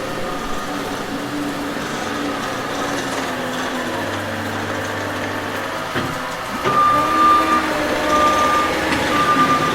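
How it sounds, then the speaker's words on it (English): A skid steer grades ground with its bucket, engine running steadily throughout with scraping and clunks, then intermittent reversing beeps sound out fairly close in the last few seconds. "He's getting better on the skid steer."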